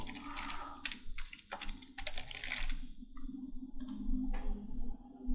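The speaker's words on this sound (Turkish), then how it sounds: "Arama motoru Google'a yazıyorum." Keys on a computer keyboard clatter in quick bursts of typing with short pauses between words, close and crisp, with no speech.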